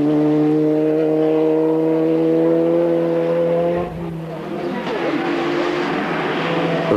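Race cars with expired homologation but still strong performance compete in a 1997 hill-climb at Peshtera; a loud engine holds a steady note, then shifts and revs higher mid-clip, close and continuous with no talk.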